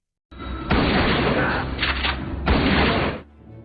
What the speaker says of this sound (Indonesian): Jerry tiba-tiba datang dan menembak Mamang Wisman dengan shotgun